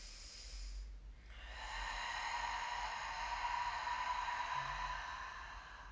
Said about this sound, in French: Inspire par le nez.